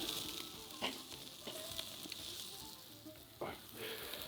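Lamb chops standing on their chine bone sizzle steadily on a grill, a close, continuous hiss of frying fat with occasional soft pops and scrapes.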